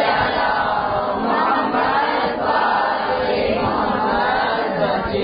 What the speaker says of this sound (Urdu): بابا سے بلند صلوات پڑھ دیجیے.